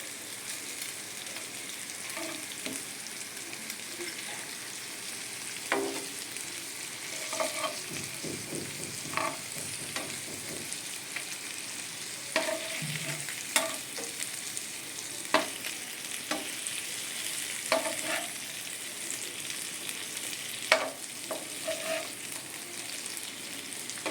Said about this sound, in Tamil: மீன் எல்லாம் நல்லா ஃப்ரை ஆகிடுச்சு. இப்போ மீனை வந்து இன்னும் கொஞ்சம் பொன்னிறமாக நல்லா இன்னும் கொஞ்சம் மாற்றி மாற்றி போடணும்